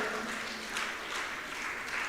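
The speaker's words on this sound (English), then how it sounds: "Let's give them a round of applause." A crowd at a community day felicitation event applauds with continuous, even clapping that sounds somewhat distant and muffled, holding steady without pause.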